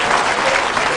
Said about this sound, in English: How about a big round of applause for Alshaya Thompson?